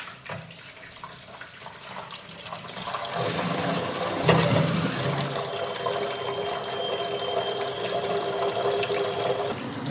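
Water rushes steadily into a Grohe concealed mixer valve as it is opened and fills, a constant hissing flow that swells after a few seconds and stays loud to the end.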